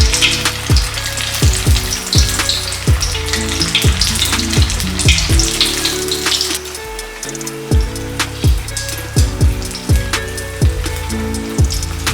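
Tofu pieces sizzle and crackle as they deep-fry in hot oil, a loud, steady frying hiss with scattered pops and spits throughout.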